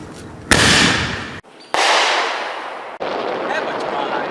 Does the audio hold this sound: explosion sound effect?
yes